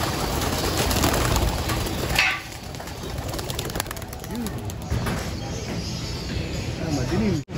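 Racing pigeons in a loft coo and flutter during a release, their soft calls and wing sounds mixed under steady nearby talking and a constant background hum.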